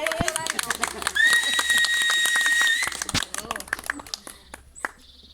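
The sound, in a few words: audience applause at a wedding ceremony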